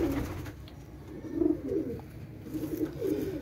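Low, burbling pigeon coos repeat in uneven phrases nearby, steady and unaccompanied by talk.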